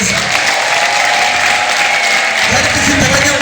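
A church congregation clapping for Jesus during a worship service, dense sustained applause filling the room with a crowd murmur, loud and close, with a voice rising near the end.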